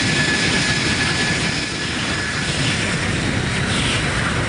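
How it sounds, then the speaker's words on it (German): Boeing 747 jet engines at full throttle on takeoff at St. Maarten's airport make a loud, continuous, roaring blast heard from close behind the aircraft. It stays steady and overpowering throughout, with no talking. "Brians größter Kick, er stellt sich mitten in den Strahl des Düsenjets, als der Vollgas gibt"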